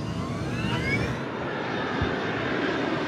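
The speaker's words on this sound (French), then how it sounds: "Les pilotes surveillent la vitesse lors de l'accélération sur la piste." Malaysia Airlines flight MH370 airliner accelerating down the runway at night for takeoff, a loud continuous engine roar with rising whine tones, steady and close throughout.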